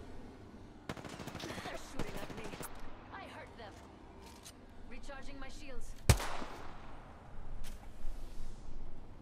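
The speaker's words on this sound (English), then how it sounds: "They're shooting at me." Gunfire aimed at the player in a video game, bursts of rapid shots near the start and a loud sharp crack midway, with a voice talking between them.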